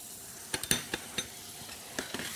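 Tuna sears in butter in a frying pan for tataki, a soft hiss under a few sharp utensil clicks and taps.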